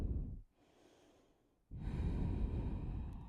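Steady breathing while holding a yoga pose to stretch the traps, a faint exhale followed by a fuller, louder breath cycle, close and alone with no talk.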